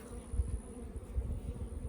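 Honey bees hum low and steady at an open farm hive, a close, continuous buzz with small swells as individual bees pass near, no voices.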